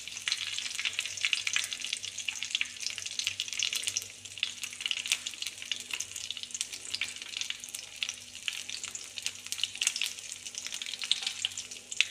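Continuous crackling and spluttering of mustard seeds and curry leaves popping in hot oil, steady and close, with a faint low hum underneath.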